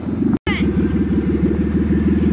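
A Dodge engine rumbles loud and close with a steady throbbing idle-like pulse after a brief dropout, rough and continuous rather than a clear rising rev.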